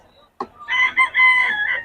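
Roosters crow at the Bocaue poultry market, one bright, drawn-out cock-a-doodle-doo ringing close after a brief cluck, with faint background noise.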